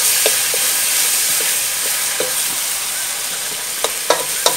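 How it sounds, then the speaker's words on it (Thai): Spices stir-fried in a pan give a loud, steady sizzle close up, with light scraping taps of a stirring utensil scattered through and a few sharper clinks near the end. "ผัดจนมันหอมเนี่ยครับมันเข้ากันครับมันสิหอมเครื่องขึ้นมาเลยนะครับ"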